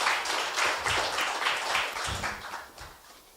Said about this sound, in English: I want a huge round of applause.